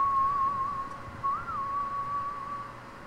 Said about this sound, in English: Stop with the whistling.